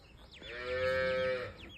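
A single cow moos once, a long drawn-out low call of about a second with clear harmonics, close and fairly loud, with no talk. The cow is a prize animal, daughter of a noted cow in a Maharashtrian cattle line.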